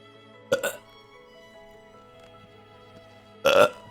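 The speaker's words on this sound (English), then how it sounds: "You can't burp loud though?" Two short, weak burps from a man just home from hospital with stomach gas, the first near the start and a slightly stronger one near the end, separated by quiet room tone.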